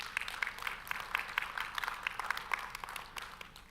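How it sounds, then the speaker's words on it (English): An audience at a conference opening session applauds, a steady patter of many hands clapping together, moderately loud and sustained throughout. "give yourselves a big round of applause for everything that you do for us"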